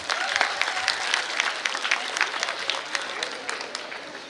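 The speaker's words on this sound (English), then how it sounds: "Please, big round of applause." An audience at an international conference lecture on generic drug development gives a round of applause, steady overlapping clapping from a moderately sized crowd that carries on for several seconds.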